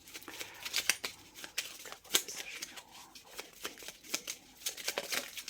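Tarot cards shuffled in the hands, a run of crisp riffling slaps and flicks at an uneven pace, close and fairly quiet, with no talking.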